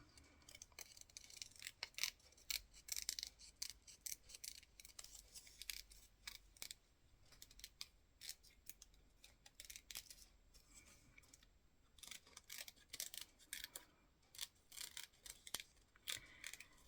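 Small scissors cut a paper tree out for a collage, with rapid, faint, close snips ticking in quick irregular runs through the quiet.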